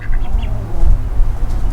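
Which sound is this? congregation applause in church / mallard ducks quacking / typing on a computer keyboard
mallard ducks quacking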